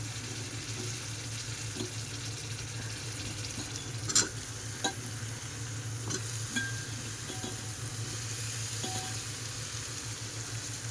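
Bombil fish, drumsticks and potato cook in a pan with a quiet, steady sizzle, broken by a few faint clinks and scrapes of stirring.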